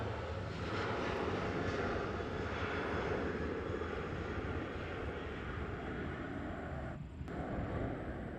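A Southwest airliner departing Nashville International Airport, its jet engines roaring as a steady, loud broadband rumble throughout, with a slight dip near the end.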